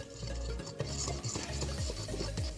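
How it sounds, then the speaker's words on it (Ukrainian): Hot honey mass being stirred hard in a pot right after baking soda goes in for honey gingerbread dough, giving a steady thick scraping and swishing with soft knocks, close and alone. "Вогонь вимикаємо та додаємо сюди соду 20 грамів. І активно перемішуємо."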